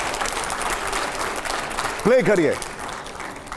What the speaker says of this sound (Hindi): जोरदार तालियां अगले सवाल से पहले।